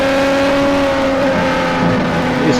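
A Formula 1 race car engine holds a steady high-pitched drone at sustained revs, loud and close, with no voices.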